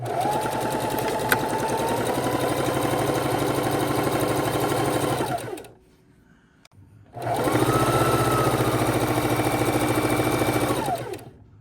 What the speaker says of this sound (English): right now I'm just putting them together and then sewing in a good 1/2 inch or 1 inch